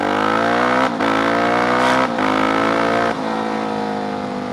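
A brand-new car engine being broken in hard roars loudly as it accelerates, the pitch climbing through several gears with brief drops at each shift, heard from close up with no talking.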